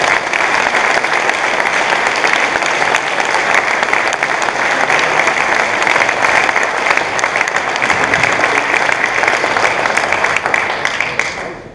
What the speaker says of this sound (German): nochmal einen ganz kräftigen Applaus